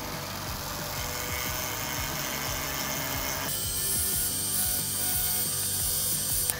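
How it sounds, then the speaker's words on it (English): Power carving wood with a diamond burr, a close steady high-pitched rotary whir with a rapid rhythmic chatter underneath, its tone shifting partway through as the burr bites into the wood. "these diamond burrs can remove a little bit of stock, but you don't wanna get crazy"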